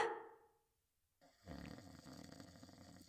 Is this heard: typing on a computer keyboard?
no